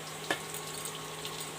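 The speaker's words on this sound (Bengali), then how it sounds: "এবার আমি ওই তেলের ফুলকপি ভাজার তেলের মধ্যে দিয়ে দিচ্ছি দুটো তেজপাতা, শুকনো লঙ্কা, জিরে।" Bay leaves, dried red chillies and cumin tempering in oil left from frying cauliflower and potato, a soft, faint, steady sizzle with one small crackle near the start.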